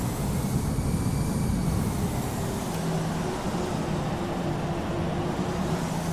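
An Airbus A320 on an automatic landing approach in the FSX flight simulator gives off a steady, unbroken engine drone with a low rumble, held at an even level throughout with no talking.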